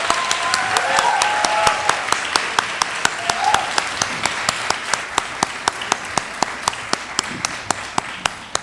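Audience applause at a Martin Luther King Jr. community event, a steady wash of clapping with sharp, evenly spaced claps standing out, moderately loud with faint voices underneath.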